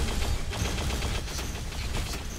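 Rocket launchers and weapons fire in the video game Unreal Tournament, a dense, continuous volley of loud bursts and blasts that lasts the whole stretch without pause.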